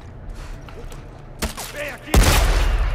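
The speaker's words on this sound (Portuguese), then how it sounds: "Ah, pera aí, pô. Errei o tiro." A sharp gunshot cracks out in The Last of Us Part II, then a second loud blast with a booming tail, while a voice speaks between them.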